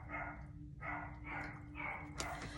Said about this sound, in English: Sorry if you guys can hear the barking.